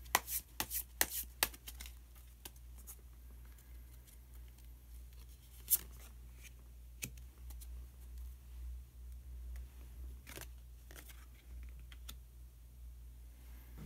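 Tarot cards are shuffled and drawn during a reading, a scatter of soft, close clicks and card taps, busier at first and then sparse over a quiet room hum.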